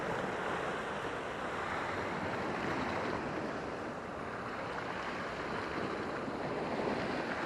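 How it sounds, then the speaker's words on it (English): Sea waves churn continuously as the tide turns, a dense, steady roar of surf with wind buffeting the microphone and no breaks or talk. "Every time I'm down here and the tide change, it goes from a mill pond to these waves."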